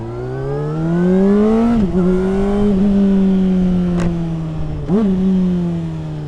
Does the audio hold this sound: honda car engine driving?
yes